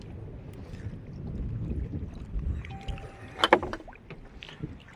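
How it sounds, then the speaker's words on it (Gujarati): A fishing boat, a shrimp trawler near Okha harbour, passes close by at sea, its low engine rumble and water wash steady with a brief sharper splash midway. "સાવ નજીકથી જાય છે આ બોટ જાય છે"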